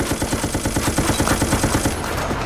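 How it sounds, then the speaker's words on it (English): Rapid automatic gunfire in Operation Raccoon City, a steady, loud stream of closely spaced shots rattling without pause for about two seconds before cutting off. "This guy's just standing here and I'm shooting him like it's no fucking big deal."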